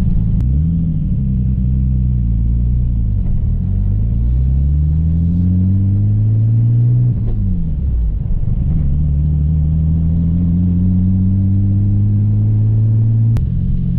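A Nissan 240SX with a swapped 2JZ engine drives along, its close, loud engine droning and rising in pitch through gentle acceleration, dipping at a shift, then pulling steadily again with a deep rumble.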